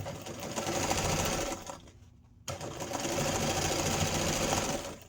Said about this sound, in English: I like to line up that opposite one and then just move my material and sew.